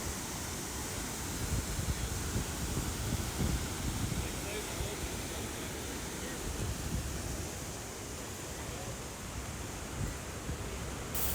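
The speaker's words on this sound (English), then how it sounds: "The water is rushing down with so much power." St. Mary Falls in Glacier National Park, a powerful waterfall rushing down, heard as a steady, loud broadband roar that fills the whole stretch without pause.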